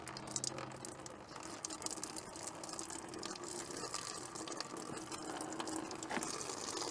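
Coolant drains out of a car radiator in a steady, faint, splashing trickle that runs for several seconds without a break, with no voices over it.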